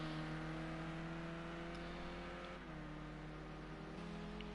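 A race car engine in a PS4 British Touring Car racing game holds a steady droning tone while warming its tyres, shifting pitch twice in small steps, loud and continuous with no voices.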